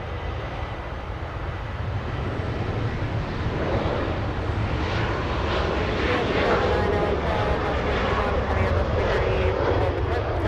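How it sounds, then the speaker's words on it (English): A Southwest airliner flies past at Los Angeles International Airport, its steady jet roar broad and continuous throughout, swelling slightly louder toward the end with some wind noise mixed in. "Southwest 3119 flying to San Francisco"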